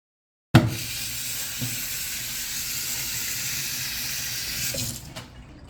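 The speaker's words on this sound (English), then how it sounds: "She's rinsing the rice" Rice being rinsed under a running tap in a kitchen, a steady rushing hiss of water that starts suddenly and carries on evenly, with a few faint clinks, before tapering off.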